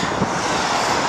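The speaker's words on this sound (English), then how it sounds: "It's rather windy" Steady, loud wind rushes and buffets the microphone throughout, a continuous roar with no other clear sounds.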